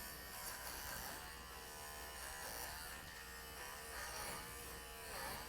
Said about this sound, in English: you can actually hear this clipper is giving me where she is kind of thick